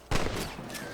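A single sharp rifle shot rings out in Red Dead Redemption on the Nintendo Switch, then trails into a lingering, echoing tail under a steady game ambience.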